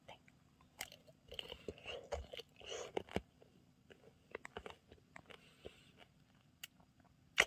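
Someone bites into and chews crunchy sugar-coated candied strawberries, with sharp crackling bites and irregular close crunches amid faint mouth sounds.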